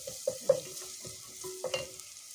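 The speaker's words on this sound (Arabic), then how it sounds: "تديها تشويحه ريحه التوم تطلع" Garlic sautés with onion and peas in a pan during Egyptian home cooking. A soft, close sizzle runs under a few light clinks of stirring, and no one speaks.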